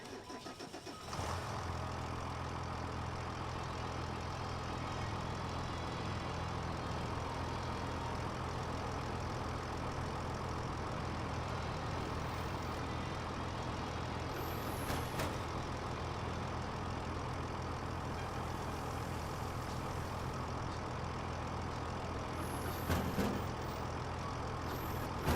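A skid steer loader engine fires up with a brief cranking burst, then settles into a steady, even diesel idle that drones on for the whole stretch, with occasional faint clanks.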